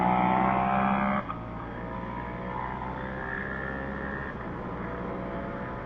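A Ducati Scrambler Cafe Racer engine pulls hard under load, a steady droning growl with a rising whine heard from the rider's position, slightly muffled, after a brief dip in level.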